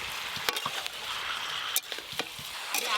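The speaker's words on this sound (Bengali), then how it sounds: "পেঁয়াজের সঙ্গে মাংসগুলো ভালো করে ভাজবো" Chicken pieces fry with chopped onions and garlic in a pan, a soft continuous sizzle with scattered clicks and scrapes from stirring, close up and without talk.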